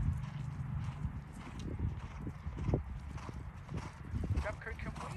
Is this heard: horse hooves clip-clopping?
yes